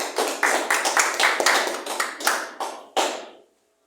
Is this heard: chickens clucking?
no